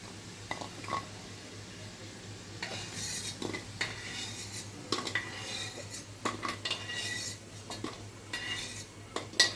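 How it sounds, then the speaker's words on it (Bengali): Lentil cakes (dhoka) fry in oil in a wok, a low sizzle broken by repeated clinks and scrapes of a metal spatula turning and lifting pieces, close and busy, no speech. "এইভাবে আমি 4-5টা করে করে দিয়ে পুরো ধোকাটাকে ভেজে নেব"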